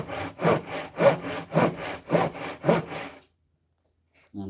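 A handsaw cuts out the wood between earlier cuts with six rhythmic back-and-forth strokes, close and fairly loud, then stops into silence before a brief faint noise at the very end.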